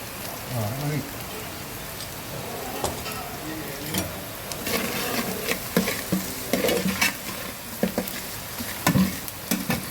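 Garlic sizzles in hot oil in a pan for pickle while a spoon stirs and scrapes through it, a loud, close crackle with irregular clinks of the utensil against the metal.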